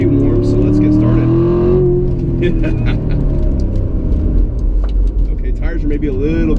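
A Chevrolet Corvette Z51 driving around a figure-eight track, with a loud, steady engine rumble that shifts in pitch as it accelerates and turns. Faint tire and road noise sits underneath.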